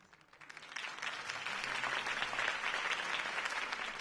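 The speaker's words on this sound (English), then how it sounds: "could have heard that applause" Crowd applause in a Batman video game swells after a quiet start and holds as a dense, steady wash of clapping after a campaign speech.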